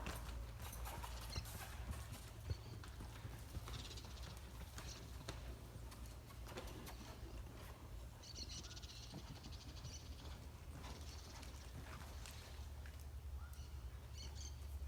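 A horse being led on foot produces faint, steady hoof clip-clops over a low constant rumble, with occasional bird chirps in the background.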